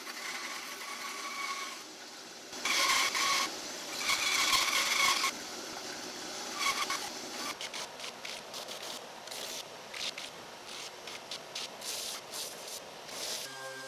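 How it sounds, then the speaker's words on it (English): Bandsaw cutting a wooden foundry rammer, then an oscillating belt sander smoothing it, bursts of hissing, rasping cutting and sanding separated by quieter motor hum, fairly close. "we'll cut that out on the bandsaw, then we'll take it over to the oscillating belt sander and clean it up"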